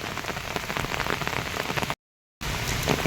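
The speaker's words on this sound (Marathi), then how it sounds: "केला पाऊस आला रे," Heavy rain near the Tin Batti lake in Khed taluka, Ratnagiri, pours down as a dense, close hiss of drops striking surfaces, cutting out for a brief dropout of silence before resuming just as steadily.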